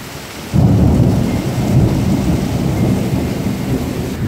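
Heavy rain pours down during a Cape Town thunderstorm, a dense close roar of rain with deep rumbling thunder swelling in after a moment and rolling on throughout.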